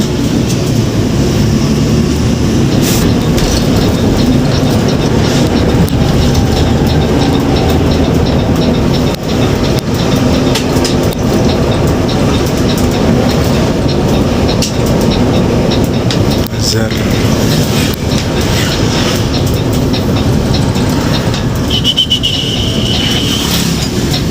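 A passenger train from Cepu, Indonesia, rumbles past close by in a steady, loud roar with rattling and squealing, and people talk faintly underneath.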